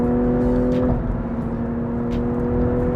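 A 2020 BMW M340i xDrive's 3.0-litre B58 straight-six growls under acceleration in sports mode with manual gear changes, a loud, steady, close engine drone with a constant low hum running throughout.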